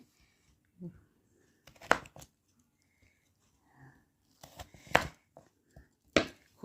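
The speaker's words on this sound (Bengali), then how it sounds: "চলো সব ওলগুলিকে আমি কেটে নিই ভালো করে পাতলা পাতলা করে" A knife slices kohlrabi thinly on a board, producing a few sharp, sparse chops separated by quiet gaps, close and fairly soft.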